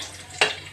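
Onion drops into hot oil in a pan for chicken feet adobo, giving a sudden close burst of sizzling that settles into a softer, steady fry.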